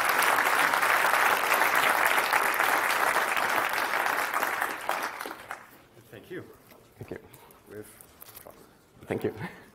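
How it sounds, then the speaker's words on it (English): Conference audience at a FOSDEM free software talk applauds the volunteers and organizing team with loud, dense clapping for about five seconds, then fades into scattered claps and soft voices. "So big applause for enabling this."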